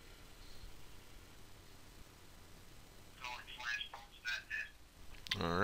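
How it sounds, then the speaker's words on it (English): Phone call placed on a Samsung Galaxy S3 flashed to Verizon prepaid, starting with faint hiss, then rhythmic tones and clicks of the call connecting, ending with a sharper burst as the line picks up. "And now let's make a quick phone call."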